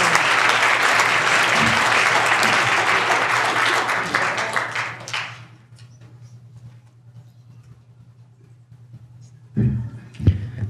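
Audience applause at a panel discussion, a dense, loud round of clapping that fades out after about five seconds, leaving a quiet room with a low hum before a brief burst of noise near the end.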